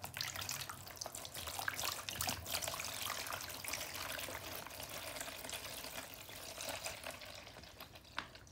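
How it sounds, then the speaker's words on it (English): Water poured into a mushroom grow kit bag sitting in a container, giving a steady trickling splash that runs for several seconds at moderate, close level, with no talking. "So I'm gonna pour the water in."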